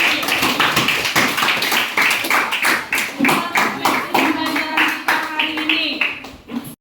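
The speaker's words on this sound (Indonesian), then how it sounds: "Berikan tepuk tangan untuk Sukati." Students clap for a classmate in a classroom, a dense patter of hand claps running the whole stretch under a teacher's voice, then trailing off near the end.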